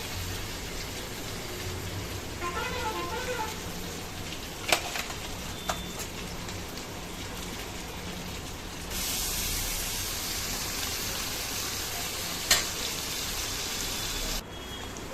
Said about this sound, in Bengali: এই যে সবটা দিয়ে ভালো করে মশলার সাথে মিশিয়ে নিয়েছি।